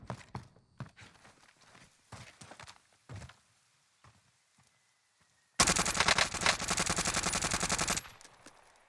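Gunfire in the video game Warzone from a MAC-10 build: scattered single shots and footsteps, then a loud, sustained burst of rapid automatic fire lasting a few seconds.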